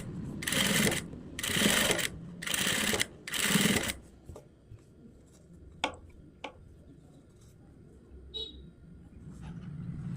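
A sewing machine stitches the hook strip of a blouse in four quick, loud bursts, followed by a quieter stretch broken only by a few faint clicks.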